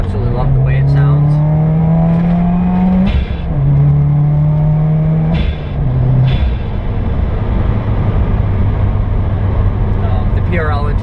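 A 2015 Subaru WRX with Stage 2 mods and a PRL intake revs its engine loudly and steadily, rising and falling pitch sweeps repeating as it climbs, with the exhaust droning continuously throughout.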